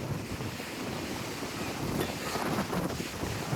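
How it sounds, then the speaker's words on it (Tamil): Strong wind buffeting the microphone with waves pounding the shore at Gandhi Beach, Puducherry, a loud continuous blustery roar with surf surging underneath. "பயங்கரமாக அலை அடிக்குதுங்க. அப்பா அடி செம்ம காற்று."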